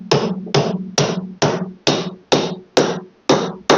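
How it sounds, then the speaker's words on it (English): Eight evenly spaced hammer blows strike staples into a stair runner, each a sharp close thud that decays quickly, with no talk. "going to take my hammer."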